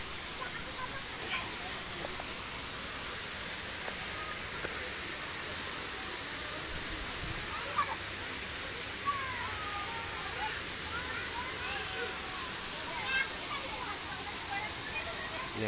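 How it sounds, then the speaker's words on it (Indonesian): Several waterfalls of differing heights at the Sumur Tujuh tourist site in Pasawahan, Kuningan pour into clear bathing pools, giving a steady, close, broadband rush of falling water that fills the whole stretch without pause. "air terjun dengan ketinggian yang berbeda"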